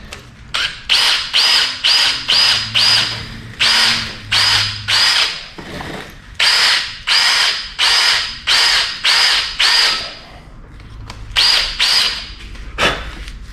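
A power drill fitted with a 5/16 bit bores into a drift car engine part in repeated loud, high-pitched whining bursts of about half a second each, with brief gaps and one longer pause midway, and no speech.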